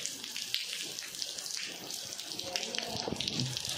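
Steady rain hisses and patters close by in a dense, continuous wash, with faint voices underneath.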